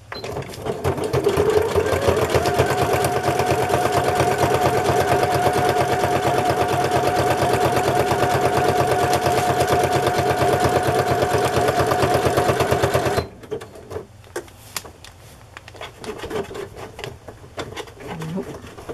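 A sewing machine runs a fast, steady zigzag stitch around the edge of a crinkly Amazon mailer envelope being made into a journal cover, close and continuous for about thirteen seconds before stopping, followed by faint handling noises.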